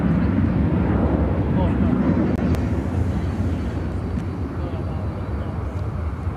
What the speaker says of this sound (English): Airlines 1946 taking off to Portland, Oregon on the A320.